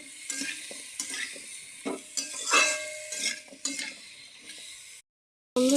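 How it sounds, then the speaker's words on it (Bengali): Pumpkin greens with chilli powder frying in a pan with a splash of water, giving a steady close sizzle broken by repeated scraping and clinking strokes of a stirring utensil, then a brief silence before the frying resumes. "হালকা একটু জল দিয়ে এটাকে ভালো মতন ভাজতে হবে বন্ধুরা"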